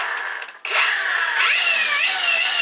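A two-speed brushless power tool whirs loudly after a brief pause, its steady whine climbing and shifting pitch as it runs, with no talking over it.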